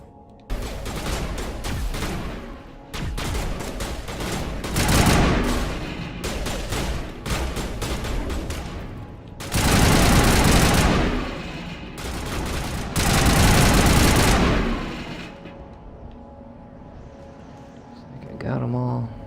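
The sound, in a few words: assault rifle gunfire in video game Mass Effect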